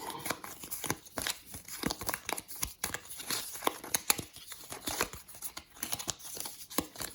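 Quiet, rapid riffling and flicking of Resident Evil 2 board game cards, a series of soft crisp snaps in quick irregular bursts, close by.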